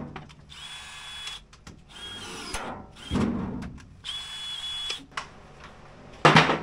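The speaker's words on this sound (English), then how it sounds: "It's a drill riveter." A power drill whirs in three sustained bursts close up, each cut off by a sharp snap as a rivet sets, with clicks and handling noise between.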